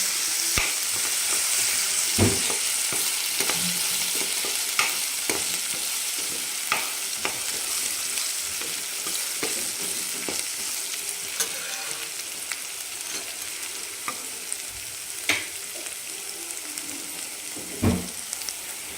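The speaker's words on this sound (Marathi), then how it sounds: "आपण आले लसणाची पेस्ट टाकून घेणार आहे तिला पण एक सुगंध सुटेपर्यंत छान असं परतून घ्यायचं" Ginger-garlic paste fries in a pan for a spicy brinjal-potato curry, giving a steady close sizzle broken by repeated sharp scrapes and taps of the spoon stirring it.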